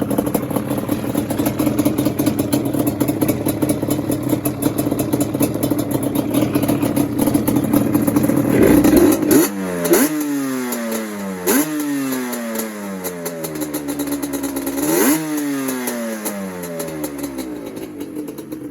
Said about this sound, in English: Let me rev it up for you guys.